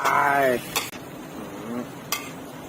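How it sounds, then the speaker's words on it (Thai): Stir-frying vegetables with shallots and garlic in a pan: clattering utensil scrapes and clanks over a steady background hiss, with a brief burst of sizzle near the start. "เจียวหอมเจียวกระเทียมเนาะ ให้หอม แล้วก็ใส่ผักเข้าไป"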